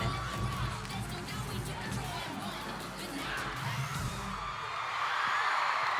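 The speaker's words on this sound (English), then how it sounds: "The crowd is going insane." An arena crowd at the cheerleading worlds roars and whoops continuously, loud and dense, swelling toward the end.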